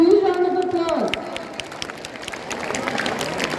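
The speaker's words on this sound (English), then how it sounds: "Give them a huge round of applause." A voice trails off and a crowd at a school Christmas celebration breaks into applause, a dense patter of clapping that continues steadily at moderate volume.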